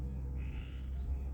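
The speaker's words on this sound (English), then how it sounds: "That's a frog. I have tree frogs around here." A tree frog calls once outdoors, a short faint croak over a steady low rumble of background noise.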